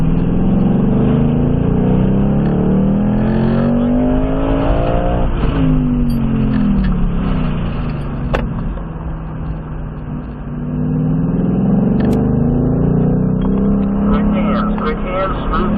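A Ford Mustang Mach 1 in track mode accelerates on a race track at a Ford Performance racing school. The engine drone is loud and constant, its pitch rising and falling through the gears, with a brief dip midway and no voices over it.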